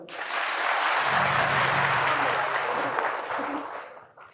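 Audience clapping at a religious gathering at Pandokhar Sarkar Dham, a dense burst of applause that swells, holds steady and fades out over a few seconds.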